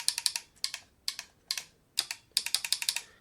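Magnetic paddle shifters on a Thrustmaster SF1000 racing wheel clack loudly in quick bursts of sharp, close clicks, with short pauses between groups and no other sound.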